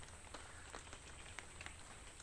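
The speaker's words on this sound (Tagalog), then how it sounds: "Maulan guys, nagsilong ako dito guys." Rain falls steadily as a soft, even patter on nearby surfaces around a shelter during an afternoon shower, with no voices.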